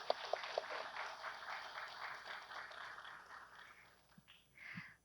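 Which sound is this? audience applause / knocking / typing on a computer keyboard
audience applause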